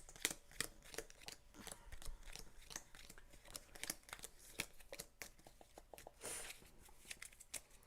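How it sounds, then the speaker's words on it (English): Drop shuffles of a deck of game cards during a two-player tabletop session: a rapid series of crisp, close riffling slaps and flutters, repeated in quick bursts without talk. "I'm just gonna do a couple drop shuffles to get"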